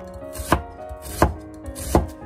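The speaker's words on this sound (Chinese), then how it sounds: "然后再把洋葱切成厚厚的细丝" A kitchen knife slices through an onion, cutting it into thin strips on a board: three crisp, close chops spaced roughly evenly apart, with no talking.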